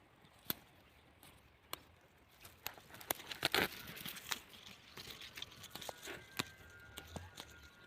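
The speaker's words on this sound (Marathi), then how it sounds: "चला जेवढी होईल तेवढी भाजीच खोडून घेऊ" Chickpea plant greens plucked and snapped off by hand in a village field: scattered crisp snaps and leafy rustles, close and fairly quiet, with no talking.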